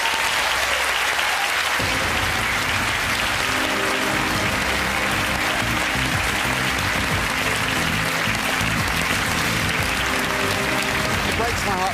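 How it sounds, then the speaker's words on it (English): A studio audience on a game show claps and cheers continuously, a loud, dense roar of applause throughout, with a host speaking over it and music swelling in partway through. "Give them a cheer."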